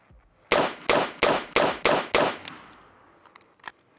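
Six loud, sharp revolver shots ring out at an even pace from a Taurus 856 three-inch steel revolver firing 132-grain bullets. Each shot decays quickly, and one fainter pop follows after a pause.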